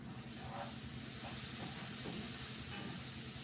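Garlic sizzles with onion and bell pepper in a pan, a steady hiss of frying over low kitchen rumble with a few soft stirring scrapes, no voices.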